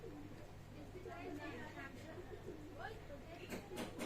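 Soft Teddy pigeons cooing in a low murmur, a few warbling calls rising over steady background noise and faint voices.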